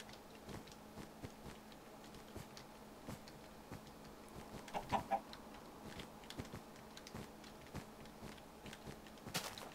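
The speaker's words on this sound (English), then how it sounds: "Ah, there's another chicken." Faint chicken clucks in the video game Minecraft, soft intermittent bird calls over a quiet background with light ticking clicks.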